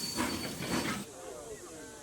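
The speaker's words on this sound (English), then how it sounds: "The engine puffs into the station and the passengers leave the train." A steam engine puffing into a station, two soft rhythmic chuffs of steam hiss in quick succession, then a quieter rumbling tail as the train settles.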